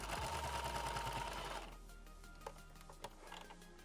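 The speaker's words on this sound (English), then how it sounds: "I sew a half-inch seam allowance" A sewing machine runs continuously stitching a seam in African print fabric for a half apron, a close, steady mechanical whir that stops partway, followed by a few faint clicks and handling taps.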